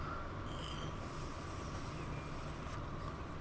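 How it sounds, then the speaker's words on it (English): A small airport transfer commuter train rolls past at a London-area station, a steady rumbling wash with faint wheel hiss, moderately distant and continuous, with no voices. "Now here's our little airport transfer train."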